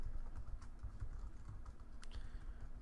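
Code is typed on a computer keyboard in Xcode, a quick run of soft, close keystrokes with one sharper key hit near the end, heard without speech over a low background hum.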